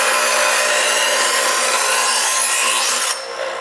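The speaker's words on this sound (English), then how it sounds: "you got to give the diamonds a chance to grind the blade." A knife blade is drawn slowly across a diamond sharpener, giving a loud, close, continuous abrasive rasp that stops abruptly near the end, leaving a quieter background.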